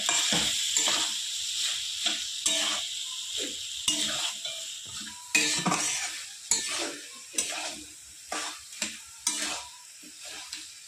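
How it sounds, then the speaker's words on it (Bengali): Cumin and chili powder frying in oil with fish for a Bengali fish tel chorchori, with soft sizzling and a series of rhythmic stirring scrapes from a utensil against the pan, close and moderately quiet, with no talking. "এইভাবেই তেলে হালকাভাবে ভেজে ভেজে কষিয়ে নেব।"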